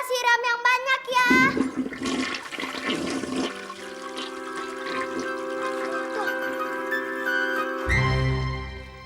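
A household toilet flushing, a loud rushing gush of water that settles into steady draining and refilling, with brief voices at the start.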